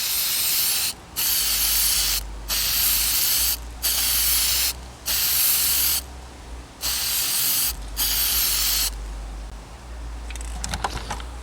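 A spray can applies a Plasti Dip coat to the emblems on a 2021 Chevy Trail Boss: seven loud, close hissing bursts separated by short pauses, then a brief rattling clatter at the end.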